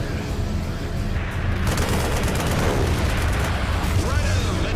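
Dense, continuous gunfire and booming from World War II fighter planes in a flight combat game rumbles under a steady roar of engines, loud and unbroken throughout, with voices speaking over the action.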